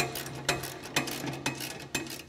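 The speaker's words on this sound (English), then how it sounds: "I'm now going to go ahead and tighten up all the bolts." A ratchet tightens bolts on a UTV snow plow bracket assembly, clicking steadily and close up with four evenly spaced heavier strokes over a constant low hum.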